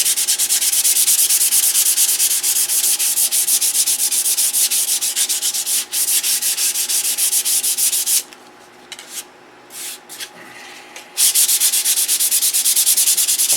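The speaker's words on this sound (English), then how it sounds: "just lightly sanding the lumps off of it" A coated model surface is lightly sanded to knock the lumps off, a loud, continuous close-up scratching rub that breaks off briefly into a few short strokes before resuming.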